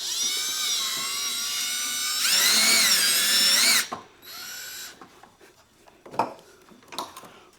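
A power driver runs hex head screws into a cab side closeout panel on a ZR2 truck bed drawer system, giving a loud, close whine that rises in pitch, then brief bursts and scattered handling knocks.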